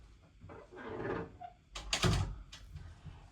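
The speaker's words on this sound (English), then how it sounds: "Close the door." Door closing indoors, a soft shuffle and rustle followed by a sharp knock and thud as it shuts, quiet in level with a faint click afterward.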